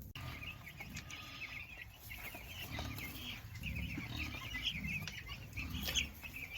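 Chickens on a farm cluck and chirp in a continuous, fairly faint chorus over a low background rumble, with no talking.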